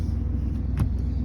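Steady low idle rumble from the exhaust of a 1994 GMC K1500 pickup truck, close by and constant, with a slightly louder, rich-running tone and no talking.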